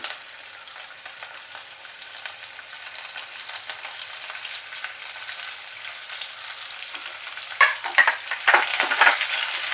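Crushed ginger and chopped onion fry in hot oil with a constant close sizzle, and scraping stirs grow louder and more frequent toward the end.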